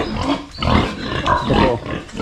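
Pigs on a Philippine farm grunt and snort close by in several short, rough bursts over a couple of seconds, with no talking.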